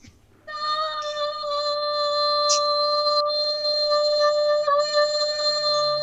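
A cat gives one long, drawn-out, wavering meow, loud and close, sustained for several seconds with a brief dip in the middle, the cry starting abruptly after a half-second of quiet.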